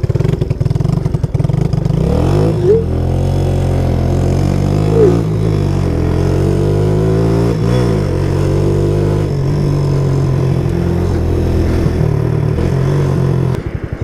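A cold carbureted motorcycle engine revs loudly and close for the whole stretch, its pitch rising and falling in uneven blips as it struggles to hold revs.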